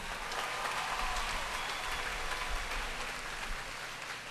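Graduation audience gives the chorus another round of applause, a loud, dense, continuous roar of clapping from a large crowd, steady from start to finish.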